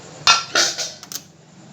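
A metal kadhai set down on a stove, a few sharp metallic clanks and knocks in quick succession, close and clear, followed by two lighter taps.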